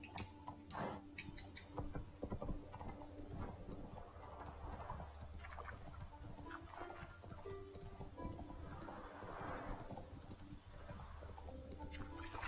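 In The Witcher 3 open world, a horse clip-clops along at a steady pace over quiet outdoor ambience, with birds cooing faintly in the background.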